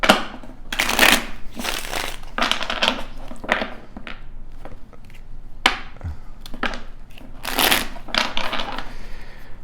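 Tarot cards being shuffled in repeated riffling bursts, close and crisp, with brief pauses between shuffles and no talking.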